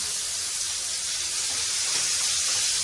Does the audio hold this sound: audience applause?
no